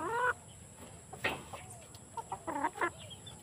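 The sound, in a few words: pullets, young hens, clucking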